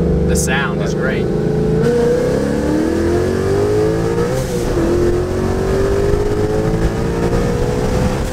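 Tuned 675 WHP Ford Mustang GT500 with upgraded clutch, heard from inside during a ride along in Mexico, its engine droning loudly and climbing through revs, with a sharp blow-off valve hiss and people talking over it.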